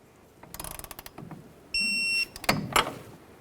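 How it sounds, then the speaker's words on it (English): A torque wrench on the upper ball joint of a Ford Ranger front axle: a quick series of ratcheting clicks, then a steady high electronic beep at the set torque, followed by a few sharp metallic clicks, close and clear. "Now let's torque this upper ball joint to 46 foot-pounds."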